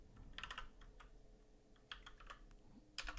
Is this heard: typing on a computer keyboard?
yes